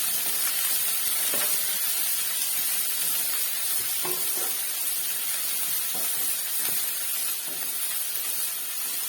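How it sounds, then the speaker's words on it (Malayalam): Crushed ginger, garlic and green chili sautéing with cinnamon, cloves and cardamom in a pan for egg rice, a loud, steady hissing sizzle throughout with a few soft stirring taps. "ഇനി ഇത് നന്നായിട്ടൊന്ന് വഴറ്റി എടുക്കാം"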